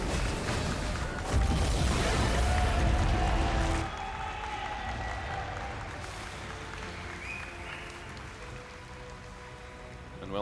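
At a Dota 2 esports grand final, a crowd roars and applauds in a dense burst that fades after a few seconds into a softer, lingering murmur of clapping.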